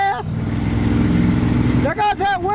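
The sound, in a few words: Ford truck Windsor V8 engine revving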